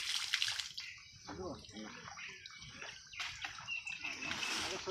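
Water poured over the head of a large cobra during a rescue by a fire brigade, splashing and trickling steadily throughout, with voices talking over it.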